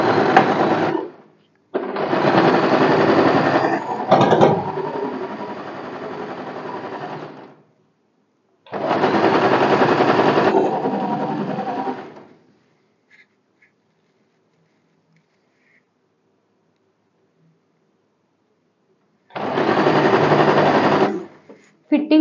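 A sewing machine stitches a blouse fitting line in loud, close, rapid bursts, three long runs and a shorter one separated by silent pauses.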